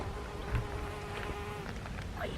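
A bee buzzes in a garden vegetable bed, a steady close drone that wavers in pitch as it moves around, with no talk over it.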